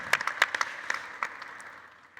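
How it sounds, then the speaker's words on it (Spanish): Applause from a panel audience at a talk on water scarcity, a scattered burst of claps that thins out and fades over about two seconds. "Un aplauso, por favor."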